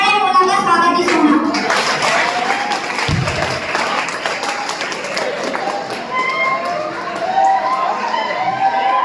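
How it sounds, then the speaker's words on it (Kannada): A crowd of students breaks into sustained, loud applause to welcome a teacher at a college freshers party, the clapping filling the hall with a voice briefly heard over it. "ಅವರಿಗೆ ಎಲ್ಲ ಚಪ್ಪಾಳೆ ಮೂಲಕ ಸ್ವಾಗತಿಸೋಣ"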